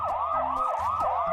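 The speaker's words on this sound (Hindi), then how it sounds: "तभी पुलिस सायरन बजाती हुई आई।" A wailing emergency siren from an arriving police vehicle sweeps up and down steadily, loud and close, with a low engine hum underneath and no talking.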